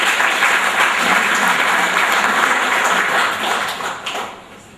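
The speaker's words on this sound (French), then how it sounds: "Je veux qu'on l'applaudisse encore un peu." An audience at a book launch applauds the author in a dense, sustained burst of clapping that fills the room, then starts to fade toward the end.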